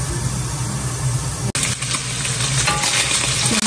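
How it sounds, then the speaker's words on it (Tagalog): Crispy chicken frying in a pan of hot oil: a steady, close, loud sizzle runs throughout, with a brief break midway before the crackling resumes. "Nagpainit na ako ng mantika sa ating crispy chicken."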